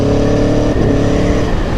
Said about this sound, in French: tu tapes une petite accèle de 50 à 90 voire un tout petit peu plus et tu passes le shifter, 1, 2, 3 vitesses